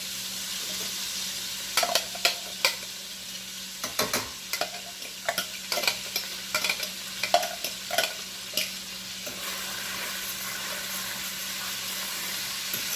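Scallions sizzle steadily in a frying pan at home dinner cooking, with a series of sharp scraping stirs punctuating the hiss through most of the stretch before the frying settles into a smoother, continuous crackle.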